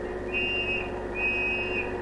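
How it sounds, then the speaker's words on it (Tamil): Two shrill police whistle blasts, each about half a second, sound over a steady rumbling engine drone. "என்னது விசில் சத்தம் கேக்குது? Police whistle."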